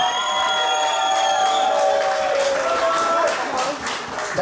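Audience at a kickboxing event in The Hague cheering and clapping after a women's bout, with a steady roar of applause and shouts that fills the whole clip and fades a little near the end.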